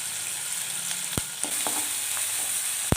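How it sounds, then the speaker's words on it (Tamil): A ground onion, garlic and green chili paste being stirred into frying stuffed brinjal gravy in a pan: steady sizzling with a few sharp spoon scrapes and clicks against the pan, no talking. "அந்த விழுதை சேர்த்து நம்ம நல்லா மிக்ஸ் பண்ணி விட்டுடலாம்"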